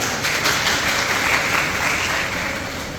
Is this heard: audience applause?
yes